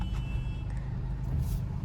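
Steady low rumble of cars and other vehicles moving through a congested street on a rainy day, continuous and fairly close, with no clear individual pass-bys.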